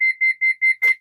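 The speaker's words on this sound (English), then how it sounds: "I can hear the backup alarm working properly" A school bus backup alarm beeps five times in a quick, even rhythm, each tone loud, clear and electronic, with the last beep blurred by a brief burst of broadband noise.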